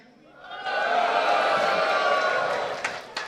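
An esports crowd at the ESL Benelux League of Legends grand final cheers and shouts loudly, a broad sustained roar swelling in after a quiet start and holding steady with a few sharper whoops near the end.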